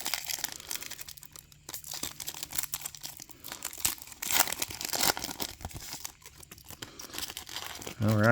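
Crinkly foil wrappers of Panini Select football card packs are torn and crumpled open, a close series of irregular rips and crackles with brief pauses between handfuls.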